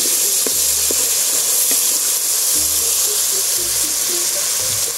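Chicken humba with oyster sauce sautés in a pan, giving a loud, continuous sizzle and hiss with occasional stirring scrapes and soft clinks throughout.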